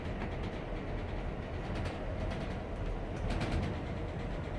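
Steady low rumble and rattle inside an Amtrak Southwest Chief sleeper car while the train rolls along, a continuous near hum with faint clicks and no talking.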